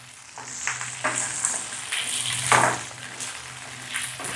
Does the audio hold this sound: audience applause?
no